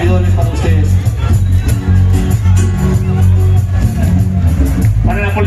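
A crowd at a huayno concert cheers and claps loudly. Shouts and whoops blend into dense crowd noise over steady music.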